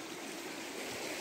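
A river flowing beside a wild riverside camp spot in Scotland, a steady broadband rush of moving water heard close by and continuously, with no talking.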